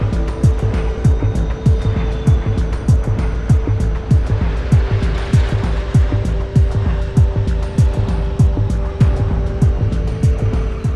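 Scooter engine and traffic noise while riding through a traffic jam in India: steady loud motor drone with a dense run of rapid clicking or rattling pulses, close and continuous, with no talk.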